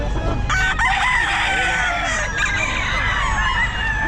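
Roosters crow loudly and repeatedly over a bed of clucking chickens at the Bocaue pet market, a busy, close chorus of overlapping calls that fills the whole stretch, with faint talk underneath.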